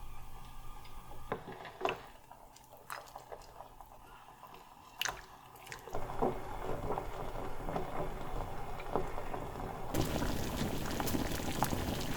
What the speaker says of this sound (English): So I usually just let it boil until most of the scum is gone